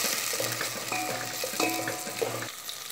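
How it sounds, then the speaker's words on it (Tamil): Ginger, garlic and chopped tomato fry in a pan for a curry-leaf garlic kulambu, giving a steady close sizzle broken by a few brief stirring clinks, with no talking. "இப்போது இஞ்சி பூண்டு நல்லா ஃப்ரை ஆயிடுச்சு. நெக்ஸ்ட்டு கட் பண்ணி வச்சுருக்க தக்காளி ஆட் பண்ணிக்கலாம்."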